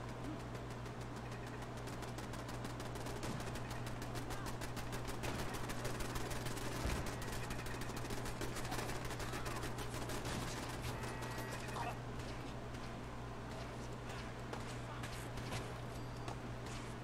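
Enemy gunners in Fallout 4 fire rapid, steady bursts of automatic gunfire throughout, heard fairly far off under a continuous low engine-like drone, with no speech.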